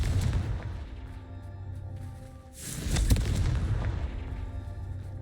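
A Confringo blasting spell explodes in Hogwarts Legacy, a heavy booming burst in the middle of continuous game ambience and rumble, followed by a trailing roar.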